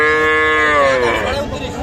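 A calf at a busy rural cattle market lets out one loud, close, drawn-out moo that slides downward in pitch and fades over about two seconds.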